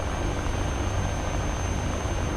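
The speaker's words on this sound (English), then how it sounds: "Not a bad aircraft, but it is loud in the cockpit." Steady, loud engine roar fills the cockpit of an FR-1 Fireball aircraft in the War Thunder game, a dense constant drone with a thin high whine running through it and no talking.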